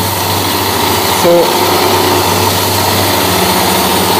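A whirling shaft experiment apparatus runs steadily at roughly 1453 RPM, giving a continuous motor-like hum with a high whine, loud and unbroken throughout; a person briefly speaks over it.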